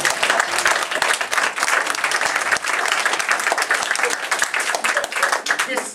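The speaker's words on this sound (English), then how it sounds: "Let's have the applause." A studio audience at a 1940s-style radio mystery broadcast breaks into steady, vigorous applause that holds at full strength for the whole six seconds, close and continuous.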